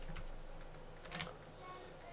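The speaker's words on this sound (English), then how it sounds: "I'm going to type public integer" Java code for a Minecraft Forge armor mod is typed on a computer keyboard, producing a few faint, scattered key clicks over a steady background hiss.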